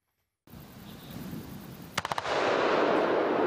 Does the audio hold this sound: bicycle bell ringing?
no